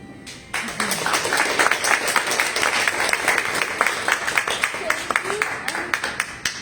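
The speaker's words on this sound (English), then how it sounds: "Another huge round of applause to our bravest contestant, Natalia Podgorka." An audience claps steadily for several seconds, a dense patter of many hands that swells slightly and keeps going, with a voice faintly underneath.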